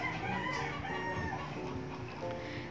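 Chickens on a farm in Bohol cluck and crow in a continuous, busy flock chorus, fairly close and steady throughout.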